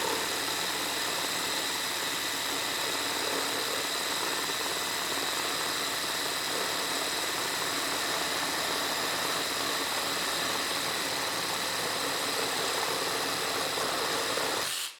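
A Dewalt Xtreme 12V subcompact brushless reciprocating saw runs steadily and loud, cutting through pine with staples in it, a continuous buzzing drone that holds for the whole stretch before cutting off abruptly at the end.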